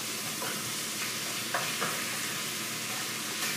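Ground meat browns in a hot pan for Greek moussaka, giving a steady close sizzle with a few soft scrapes and stirs and no talking.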